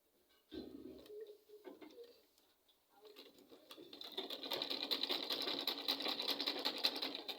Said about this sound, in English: So I'm going to sew it now.